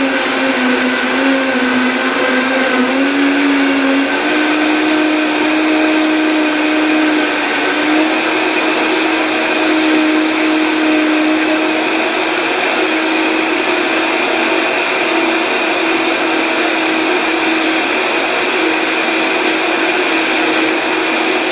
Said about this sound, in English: once you flip on the on switch up, then you flip it to high, from low to high